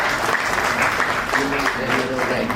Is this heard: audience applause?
yes